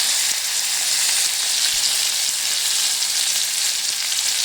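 Spices with coriander, cumin, turmeric and salt frying in a pan, a loud unbroken hissing sizzle heard up close, with no pauses.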